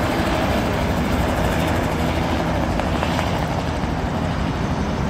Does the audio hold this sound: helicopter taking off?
yes